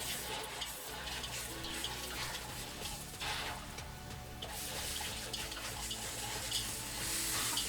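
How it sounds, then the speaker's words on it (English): An egg fries in hot oil over high heat, giving a continuous close crackling sizzle that stays fairly even and quiet throughout. "Fry the egg. So stir fry egg, the tip is oil need to be hot."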